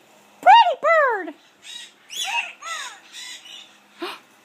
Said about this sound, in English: Look at that pretty bird, Mya!